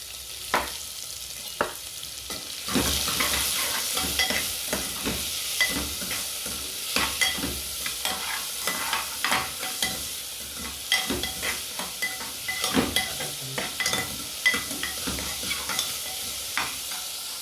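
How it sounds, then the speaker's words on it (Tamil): Onion, green chili and ginger sauté in a pan for khichdi under a steady sizzle, with frequent spatula scrapes and stirring knocks going on throughout and no talking. "ஸ்ப்ளிட் பண்ணி வச்சுக்கிற பச்சை மிளகா இஞ்சி எல்லாத்தையும் போட்டு நான் வதக்கிக்கிறேன்"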